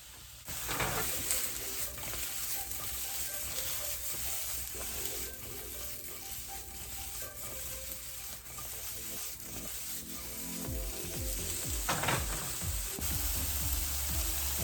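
Green beans and mushrooms sautéing in a hot pan, with a steady, loud sizzle throughout, occasional scraping and stirring, and no talking.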